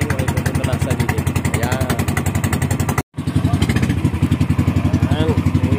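A motorcycle engine runs close by with a fast, even, thumping putter that drops out for a moment, then picks back up at the same steady pace.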